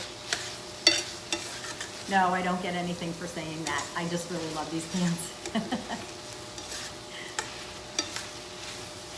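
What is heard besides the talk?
onions and beef frying and being stirred in a pan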